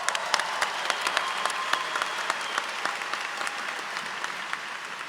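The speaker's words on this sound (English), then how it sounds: "Feel free to applaud as much as you want." An audience applauds at the Rutgers Business School 2025 Convocation ceremony in New Brunswick. The clapping is sustained and crackly, with individual sharp claps standing out over a continuous wash of moderate, roomy sound.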